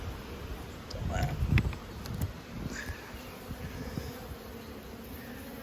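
Honey bees buzz around an open hive in an apiary during an inspection, a soft continuous drone with brief louder swells as bees pass near, alongside handling noises.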